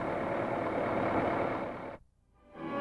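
A newly assembled engine runs at the Ford Dearborn Assembly plant in 1962, a steady idling drone with mechanical rumble that abruptly cuts out, drops to near silence, then begins swelling back up at the end.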